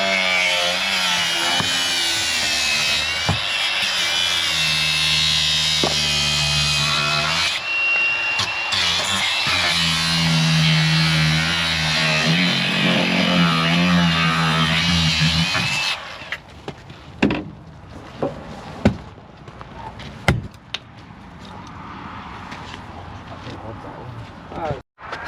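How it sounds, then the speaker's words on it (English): A grinder cutting around the rim of the camper body on a Bedford Rascal, running loud and steady with a shifting whine for about fifteen seconds, then stopping; scattered knocks and clatter follow. "So I had an idea to cut right around the rim with the grinders so that hopefully it'll just lift off."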